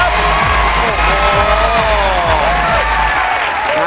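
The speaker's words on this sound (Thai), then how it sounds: "ขอเสียงปรบมือด้วยครับ" An audience at a Thai innovation awards ceremony applauds and cheers. The sound is a loud, dense, sustained wash of clapping and crowd noise with steady rhythmic thumps underneath.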